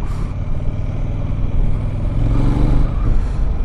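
A CFMOTO 800 NK Advanced motorcycle engine pulls hard through the gears, a loud, steady close-range drone that swells slightly as it accelerates, with no talk over it.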